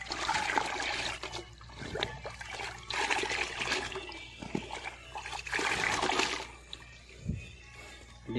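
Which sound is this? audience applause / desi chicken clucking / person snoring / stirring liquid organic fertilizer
stirring liquid organic fertilizer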